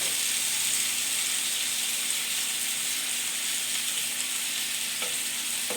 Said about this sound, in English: once you put your chicken in your frying pan, you're just going to want to keep it moving so it doesn't stick.